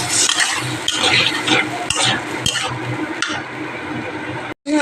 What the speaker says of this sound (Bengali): এই দেখো এইটা এবার দিয়ে দেবো এইবারে আবার ভালো করে কষাবো